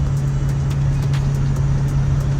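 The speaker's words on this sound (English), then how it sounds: "we're driving this unit right here. So this is the 2017 F350 dually." Steady road drone from a 2017 Ford F350 dually pickup cruising while towing a trailer, a constant low engine and tire hum with faint wind noise, no talking.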